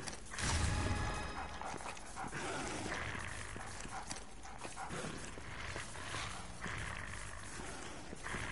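A dog in the video game Umbrella Corps gives short yelps and whines over a low clattering game background, fairly close, with no one speaking.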